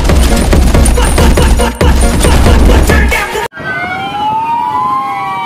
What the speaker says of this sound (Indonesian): Lihat, ada truk pemadam kebakaran teman-teman.